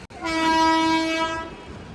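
A goods train sounds its horn at the Chitrod railway station level crossing, one loud sustained tonal blast of over a second, close by and alone.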